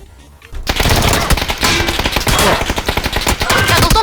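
Sustained bursts of automatic gunfire in PUBG play loud and close, sharp shots rattling over a dense, busy game background for several seconds.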